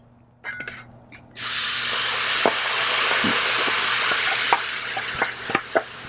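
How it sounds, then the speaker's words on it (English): Rehydrated onions laid down as a bed on a hot White Castle–style slider griddle around 400 degrees, bursting into a loud, steady broadband sizzle after a moment of quiet, with faint clicks of a spatula spreading them. "we're going to put a nice bed of onions down onto the griddle"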